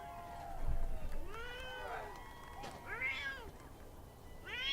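A cat meows several times in drawn-out, wavering cries, fairly close, against a light background hiss.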